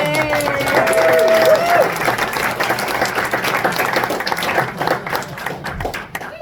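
Audience applause and clapping for a comedian at a comedy night at a golf club inn, loud and sustained from the start, with a few whoops and crowd noise before slowly thinning out.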